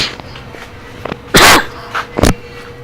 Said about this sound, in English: Sorry about that. Didn't mean to cough.